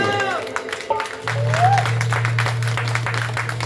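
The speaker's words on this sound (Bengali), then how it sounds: "একটু যার যার মায়ের নাম করে একটু হাততালি হোক সবাই মিলে" An audience claps together at a gathering, the applause building into a steady crowd clatter under a tonal, musical hum, with a voice heard near the start.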